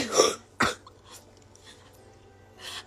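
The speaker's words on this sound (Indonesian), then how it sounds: "Arep batuk." Two sharp coughs close together near the start, followed by faint quiet background and a softer breathy noise at the end.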